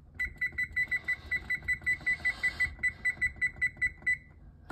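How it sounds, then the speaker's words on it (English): An oven control panel gives a long run of short, evenly spaced high beeps while preheat is set to 450, steady and close with nothing else over it. "Now that's preheating the oven."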